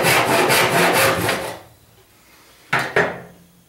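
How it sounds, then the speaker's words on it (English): A carcass saw with small teeth cutting a wood board by hand, a rapid series of close rasping strokes in steady rhythm, then a pause and two final short strokes. "the carcass saw with the smaller teeth gives me a bit of a finer cut"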